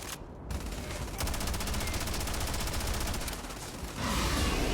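Rapid automatic Kalashnikov fire in the video game Starfield, a dense continuous burst of shots lasting several seconds, loud and close, with a brief pause before firing resumes.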